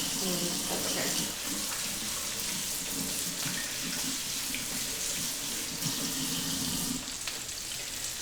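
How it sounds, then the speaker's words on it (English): Water runs steadily from a kitchen tap while hands are washed, a loud continuous close-up gush with splashing that holds for several seconds and eases slightly near the end. "Wash your hands because now they're nasty."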